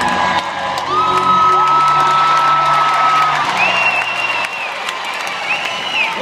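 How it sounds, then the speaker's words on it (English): A loud outdoor crowd cheers and whistles at an RV demolition derby in Greeley, with long shrill whistles and shouting voices sustained throughout. "Everybody cheer him on."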